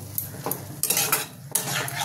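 Red amaranth greens with chopped peanuts are stirred in a pan, giving close scraping spatula strokes and metallic clinks against the pan over a faint sizzle.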